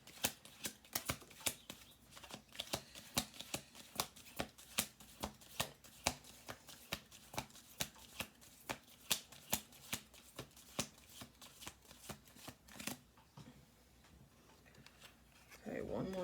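Tarot cards shuffled over and over in a quick, steady riffling rhythm of soft slaps that stops near the end.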